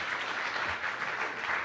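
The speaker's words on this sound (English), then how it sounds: "give right. a round of applause to Dave from Chartio" An audience at a tech demo event gives a steady round of applause, dense clapping filling the room at moderate loudness throughout.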